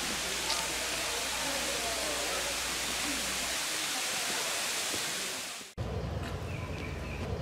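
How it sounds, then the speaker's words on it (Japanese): A steady roaring rush of falling water at Manoa Falls, Hawaii, loud and close, continuous broadband noise that cuts briefly before resuming. "こちらがマノア滝です。"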